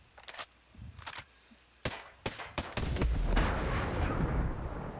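Single shots from an AUG assault rifle in Ghost Recon Breakpoint ring out one at a time at an uneven pace, each a sharp loud crack, with a rising rumble of background noise filling the later part.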